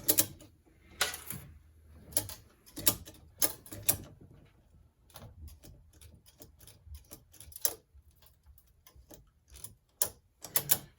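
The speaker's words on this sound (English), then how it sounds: "I hate these 1-inch ratchets because I've yet to find one that's any good" A 1-inch drive ratchet wrench works on a vehicle, giving irregular bursts of rapid, close metallic clicking separated by brief pauses.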